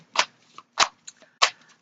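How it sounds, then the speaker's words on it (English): Three crisp bursts of playing cards being shuffled, each a short riffling rush followed by lighter taps, spaced evenly about half a second apart and heard close up in a quiet room. "And so I just like, I'm just shuffling"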